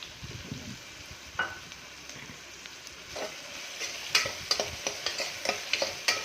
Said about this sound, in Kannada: ಇವಾಗ ಸ್ವಲ್ಪ ಕರಿಬೇವಿನ ಸೊಪ್ಪು ಹಾಕೋಣ.